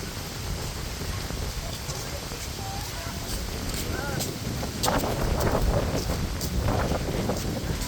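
Strong wind blows across an Okanagan lakeside beach at Penticton, a constant loud rushing buffet on the microphone, with voices talking faintly underneath.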